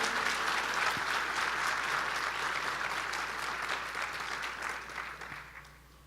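A church congregation claps for several seconds during a sermon, a full, dense sheet of applause that holds steady and then gradually thins and fades toward the end.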